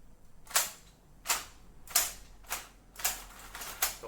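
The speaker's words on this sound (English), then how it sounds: "Got a nice spring-loaded mechanism inside that mimics the reload action of within the game" A spring-loaded reload mechanism inside a 3D-printed Apex Legends Wingman replica gives six sharp mechanical snaps, each spaced roughly half a second to a second apart, crisp and close with no talking.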